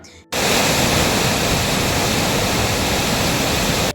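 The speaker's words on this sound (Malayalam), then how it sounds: "വെള്ളം പാറയിൽ ചിതറുന്ന ശബ്ദം കിലോമീറ്ററുകൾക്കകലെ വരെ കേൾക്കാമെന്നതിനാലാണ്" Irappanpara waterfall beside the road near Thamarakulam junction, water crashing onto rocks: a loud, steady, close roar that starts abruptly after a brief quiet moment and holds evenly to the end.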